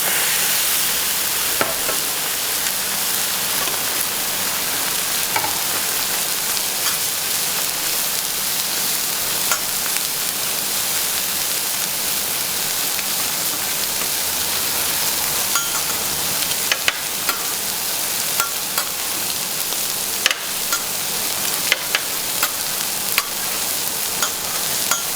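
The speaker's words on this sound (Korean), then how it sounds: "고기 맛있게 구워 드리겠습니다" Pork belly sizzles steadily on a large iron griddle the size of a billiard table at a busy restaurant, a loud, close, continuous frying hiss with occasional clicks of utensils stirring the meat.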